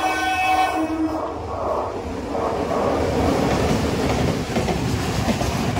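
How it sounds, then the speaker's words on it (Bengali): A through train passes Mecheda railway station, sounding its horn in long tones at the start before a loud, close rumble of wheels and carriages takes over and rolls on steadily. "আর সামনে থেকে আসছে একটা থ্রু ট্রেন।"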